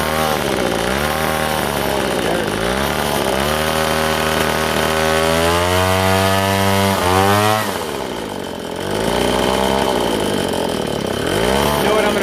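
A two-stroke weed whacker engine running hard and unable to idle, loud and close, its buzzing pitch swinging up and down through repeated revs with one brief dip before climbing again.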